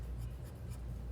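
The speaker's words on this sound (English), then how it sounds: "some Sharpies to start outlining" Sharpie marker drawing outlines on paper, a steady close scratchy scribble with brief louder strokes throughout.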